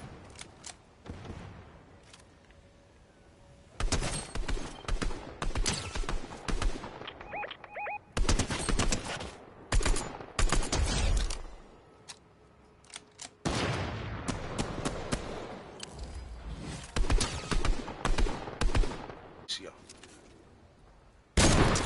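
Fortnite gunfire in a team match, rapid bursts of loud automatic shots in clusters with pauses between, with players talking during the fight.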